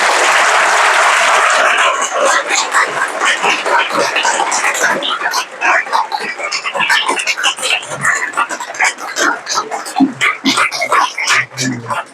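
An audience applauds at a teachers' gathering as the next speaker is invited up, loud steady clapping at first that thins into scattered claps, with a voice starting to speak over the tail end.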